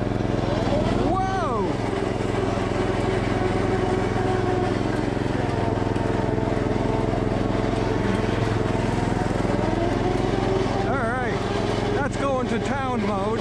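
A 1989 John Deere RX75 riding mower engine drones steadily while driving in gear, a continuous loud hum with occasional pitch shifts as speed changes, and someone talks over it throughout.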